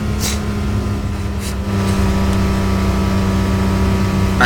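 A hatchback car engine in a video game drones steadily and loudly, its pitch climbing slightly as it revs, with no voices over it.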